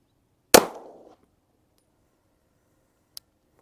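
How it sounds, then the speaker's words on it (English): One sharp, loud gunshot from a Federal HST 147 grain round fired at 7 yards through two layers of canvas into a block of ballistic gelatin, its report decaying over about half a second, followed by a faint distant click. "1 round, HST 147 grain, 7 yards at that block of ballistic gelatin."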